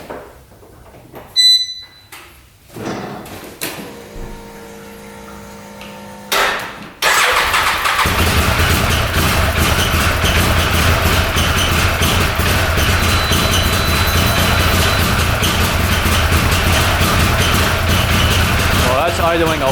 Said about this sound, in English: So let's fire this thing back up and see how it idles.